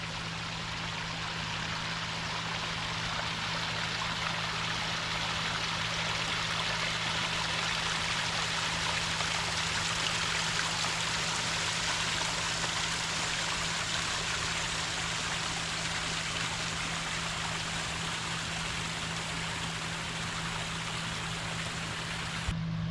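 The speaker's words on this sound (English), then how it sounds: "they got some nice landscaping here with a little waterfall" A small landscaped waterfall on nature center grounds in Woodland Mound park gives a steady, even rush of falling and flowing water, unbroken and with no talking.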